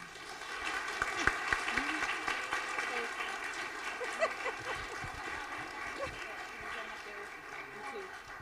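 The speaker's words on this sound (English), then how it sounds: "help me in giving a big round of applause for Grisel" Audience applause at a Hispanic Heritage Month celebration, sustained clapping for Grisel heard at moderate distance with voices mixed in beneath.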